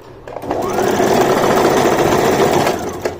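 A sewing machine runs steadily, stitching underwear fabric in a continuous, loud, close whir with a brief pause near the start.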